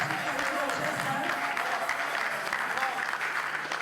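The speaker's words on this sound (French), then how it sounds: "Si on peut l'acclamer, mes frères et sœurs." Church congregation clapping for a pastor at an evangelical gathering, a dense continuous wash of applause, with voices mixed in underneath.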